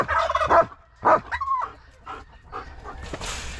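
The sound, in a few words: turkeys on a farm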